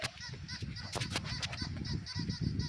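A duck in a video game (Melon Sandbox) quacks repeatedly in loud, nasal, honking bursts, several calls in quick succession close to the listener.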